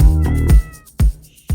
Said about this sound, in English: Be quiet, kitty.